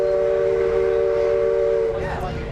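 The Mark Twain Riverboat at Disneyland sounds its steam whistle, a loud, sustained multi-tone blast that holds steady and then begins to fade near the end, with faint background chatter.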